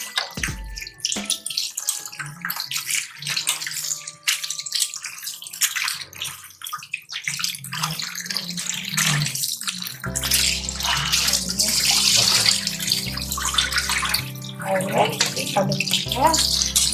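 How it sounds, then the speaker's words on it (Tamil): Raw chicken is rinsed under running tap water in a kitchen, with splashing and pouring that grows louder and fuller in the second half, and a voice speaking over parts of it. "ஒரு 6-7 தண்ணி ஊற்றி நீட்டாக சிக்கன் கழுவுங்க."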